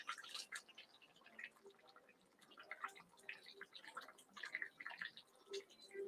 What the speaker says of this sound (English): Now we've started to bubble a little bit, so I'm going to turn it down.